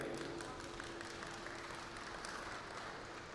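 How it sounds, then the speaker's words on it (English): An audience bursts into applause for a board chair at a public gathering, a steady wash of clapping from many hands, fairly faint and distant, sustained for a few seconds. "Great big round of applause for Geraldine"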